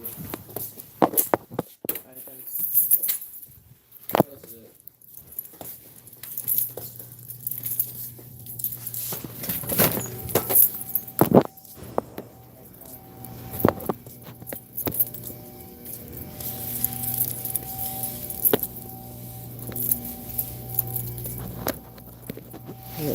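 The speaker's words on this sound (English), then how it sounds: "Got my keys in here." Keys jangle and clink in short metallic bursts, mixed with footsteps and handling noise, while someone talks intermittently nearby.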